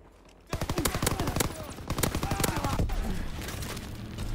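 Rapid automatic gunfire in a video game shooter, loud bursts of close shots starting abruptly and continuing in quick rattling volleys, with faint voices in the background.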